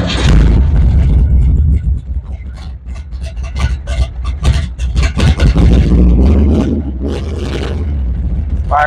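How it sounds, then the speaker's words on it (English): A 1959 GMC pickup truck's engine fires up on a cold day and settles into a loud, rough, close idle, with uneven revving bursts as it catches and runs. "Truck fires up."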